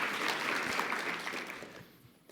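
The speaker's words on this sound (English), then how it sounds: "I just want to give Mehdi another round of applause for that" An audience at an awards evening claps, a dense burst of applause that stays strong for about two seconds and then tapers off.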